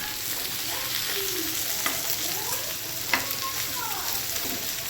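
Fish frying in hot oil with onions in a home kitchen, a steady dense sizzle throughout with a few stirring clicks and scrapes, close and moderately loud, no talking.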